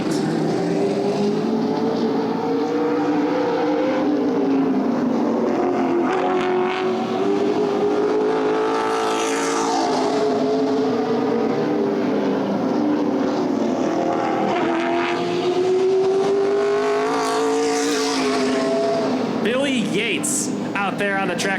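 A street stock race car roars around the oval on a qualifying lap, its engine note rising and falling steadily as it passes, with an announcer talking over the continuous loud drone.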